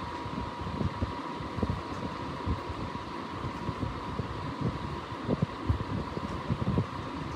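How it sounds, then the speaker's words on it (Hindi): An electric fan runs at full speed in a room at night, giving a steady, even whooshing rush with a faint hum and small flutters throughout, close and continuous, with nobody talking. "पंखे की स्पीड फुल कर दी है मैंने"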